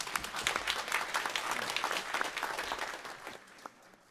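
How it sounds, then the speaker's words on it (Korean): A church congregation claps for its Gloria choir after a New Year worship hymn. The applause is dense and steady, with many hands throughout, and it thins slightly toward the end. "박수 한번 보내주시기 바랍니다."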